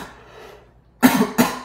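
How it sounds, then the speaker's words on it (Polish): A man who is ill coughs twice in quick succession, two sharp, close bursts after a quiet moment of faint background hum. "Sami zresztą słyszycie, że kaszlę."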